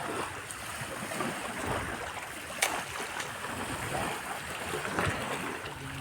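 A small boat out at sea off San Pascual, Masbate, with a steady wash of waves and water noise around it, fairly even and moderately quiet, with occasional faint knocks.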